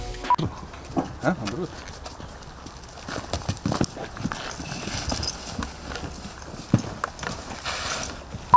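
Donkey hooves clip-clopping on a farm that keeps many donkeys, a string of uneven sharp knocks at moderate distance with occasional animal noises and light background sound.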